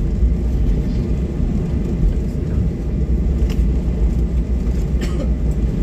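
Passenger airplane just after landing at Yogyakarta International Airport in Kulon Progo, heard from inside the cabin as a steady, loud low-pitched rumble and hum that continues unbroken throughout, with no speech.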